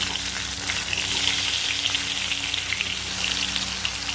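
Pieces of fish frying in a pan give a loud, steady, close sizzle and crackle that runs without a break.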